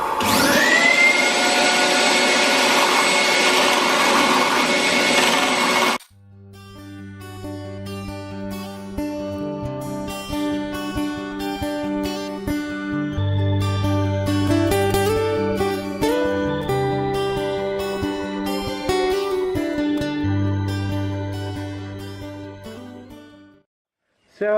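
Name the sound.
wood lathe turning a jarrah crochet hook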